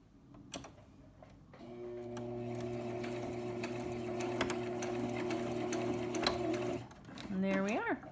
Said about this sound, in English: And I'm going to sew the other part.